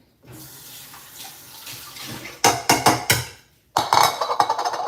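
Running tap water splashing as a catfish is rinsed in a bowl at the sink, a steady wash that swells into louder bursts of gushing and splashing toward the end.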